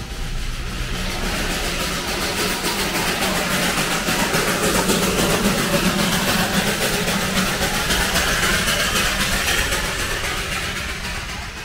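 A diesel engine idles with a constant deep rumble throughout, steady and fairly loud, like a locomotive waiting at a platform, at New Jalpaiguri railway station on the Darjeeling Himalayan Railway.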